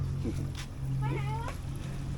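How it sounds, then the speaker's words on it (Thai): A cat gives one clear, rising meow close by amid background noise, with people talking faintly around it. "โอ้แมว"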